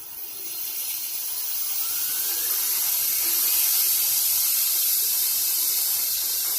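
Electric motor fitted to an antique hand tractor, running at top speed on 24 volts with its wheels spinning off the ground: a steady, loud, high whining hiss that builds slightly and holds for several seconds, with no talk over it.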